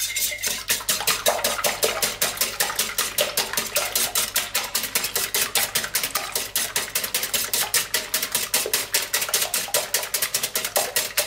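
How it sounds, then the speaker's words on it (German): A wire whisk beats salted omelette batter in a bowl, a fast, steady run of light metallic clicks and taps kept up without pause at close range. "jetzt mit Schneebesen etwas einschlagen"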